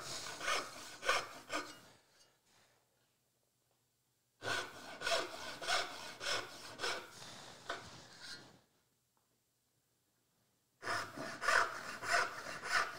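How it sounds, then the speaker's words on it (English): A backsaw cuts wood along a marked line in steady push-pull strokes, three bursts of rhythmic rasping separated by quiet pauses, close and clear. "So I push the saw into the kerf, forget about the top cut, and just focus on the bottom one."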